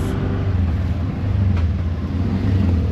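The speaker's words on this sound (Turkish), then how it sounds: "Tuk tuk gelecek bu arada." A small motorbike-pulled tuk tuk ride in Phnom Penh, Cambodia runs close by with a steady loud low engine rumble and traffic noise, the motor holding an even drone throughout.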